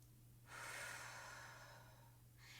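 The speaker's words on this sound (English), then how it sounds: "You're gonna take a deep breath in" One deep, slow breath drawn in close to the microphone, a long airy inhale lasting nearly two seconds, with a second breath starting at the end over a low steady hum.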